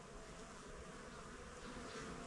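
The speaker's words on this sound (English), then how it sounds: "this is crammed full with bees in here" Dense, steady buzzing of a honeybee colony packed inside a crowded hive, heard up close as a continuous drone with no voices.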